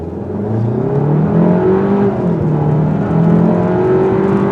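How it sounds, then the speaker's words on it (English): A 2021 Kia K5 engine pulls hard in sport mode, its loud droning note climbing in pitch through gear changes, heard close and alone. "This isn't the most powerful motor I've ever used, but it does pretty good, especially when you put it in the sport mode."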